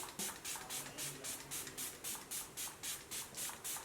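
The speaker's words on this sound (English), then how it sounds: "I'm going to spray this as my primer." A fine mist sprayer of facial serum pumped repeatedly in a quick, steady rhythm, about a dozen short airy hisses in a row, close up with no talking.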